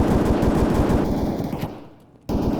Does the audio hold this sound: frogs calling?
no